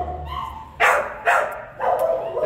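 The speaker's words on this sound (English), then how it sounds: "A lot of noisy dogs in this room." Several excited dogs barking in an animal shelter kennel room, sharp loud barks in three bursts with yips and whimpers, close and echoing in the room.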